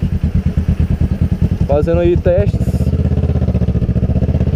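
Kawasaki ER6N motorcycle engine revving hard with a steady, loud, rapid pulsing rhythm throughout, with someone talking briefly over it midway.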